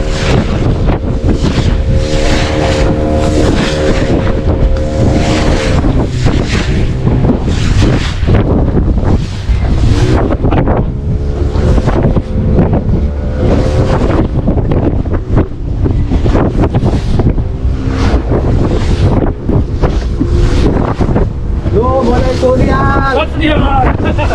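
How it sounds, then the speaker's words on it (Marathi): Boat ride out of Malvan on a rough Konkan sea, with heavy wind buffeting the microphone and the hull thumping over waves. Excited voices talk and laugh throughout over the constant roar. "बोट बघा कसल्या उडताय ते बघा"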